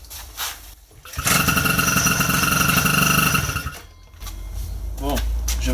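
A small MBK 51 moped engine runs loud and steady for a few seconds in the middle, with brief quieter engine noise before and after.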